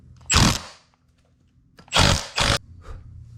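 Tool work on a Can-Am front differential, loosening a 13 mm nut: three short loud bursts of ratcheting or power-tool noise, one alone and then a quick pair, with quiet gaps between and no talk.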